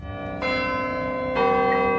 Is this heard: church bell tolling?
yes